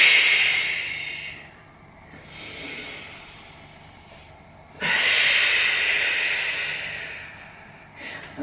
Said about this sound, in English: Lift your other toe, breathe in and breathe out.